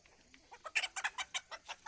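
Free-range desi chickens cluck in a quick, close series of short calls while pecking at maize grain outdoors.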